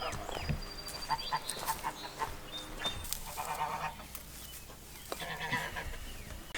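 Nesting geese honk and call near their eggs, a mix of loud nasal honks and squawks that repeat irregularly at close range over a background of outdoor noise.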